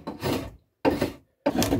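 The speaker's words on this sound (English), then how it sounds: "I use my planer to ensure that the sides are more or less squared" A hand planer squaring the wooden sides of a beehive super, heard as three close, loud rasping passes across the wood separated by short pauses.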